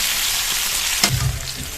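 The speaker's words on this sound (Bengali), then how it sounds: "আলু আর কুমড়োটা খানিকক্ষণ ভেজে নেবো লবণ হলুদ ছাড়া" Potato and pumpkin pieces fry in oil without salt or turmeric, giving a steady close sizzle with a brief sharper crackle midway. No one speaks.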